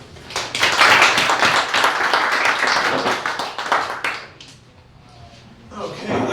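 A studio audience at a talk event claps together in a dense burst that fades after a few seconds, then picks up faintly again.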